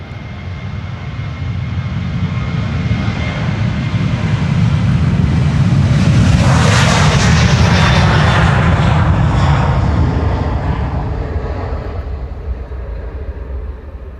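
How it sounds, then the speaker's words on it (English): Ryanair jet airliner taking off from Schiphol's Polderbaan runway 36L, a powerful engine roar that builds, peaks with crackling rumble and hissing overhead, then slowly fades into the distance, no talking. "And this is Ryanair going to Dublin, I think."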